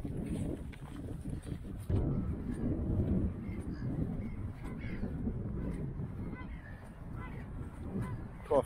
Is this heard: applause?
no